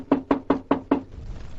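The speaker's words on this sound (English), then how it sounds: "The sheriff and I squeezed into a closet when the knock came at the door." Five sharp, evenly spaced knocks on a door in a 1946 radio drama, loud and close, followed by a quiet pause.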